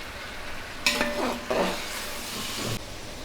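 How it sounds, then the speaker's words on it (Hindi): Chopped tomatoes fry in a pan for Punjabi chicken pulao: a soft bed of noise swells into a louder sizzling, stirring burst for about two seconds, then settles back to quiet. "मैं इसलिए इसको पहले डाल रही हूँ ताकि ये इसके साथ ही फ्राई हो जाए अच्छी तरह।"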